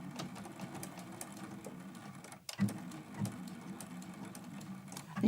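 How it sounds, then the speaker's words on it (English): Sewing machine stitching a Christmas quilt-as-you-go quilt block with a back stitch: a steady, close mechanical whirr that briefly halts midway, then resumes. "I think I'm going to do a little back stitch when I start this"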